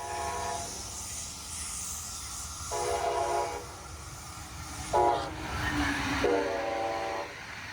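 A Brightline passenger train with a Red Bull wrap rumbles past nearby at Gusset Boulevard, Brevard County, while its horn sounds in several long, repeated blasts over the steady rolling of the cars.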